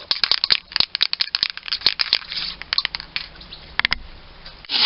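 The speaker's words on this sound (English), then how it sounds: "You need to be getting that ball bearing bouncing from one end to the other to really stir it up." A ball bearing rattles inside a spray can of primer that is being shaken during the restoration of a 1946 Boxford lathe. The clicks are quick, close and rhythmic and taper off toward the end.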